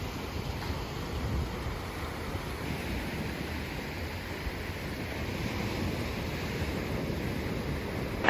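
Ocean surf rolls onto Haeundae Beach in Busan, Korea, a steady broad wash of waves blended with wind buffeting the microphone, continuous and fairly loud with no voices.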